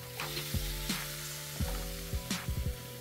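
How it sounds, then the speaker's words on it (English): Onions and green peppers sautéing in butter in a pot, a soft sizzle under several sharp stirring clanks and utensil knocks against the metal, close and fairly quiet. "we're going to saute these vegetables for about 5 to 10 minutes"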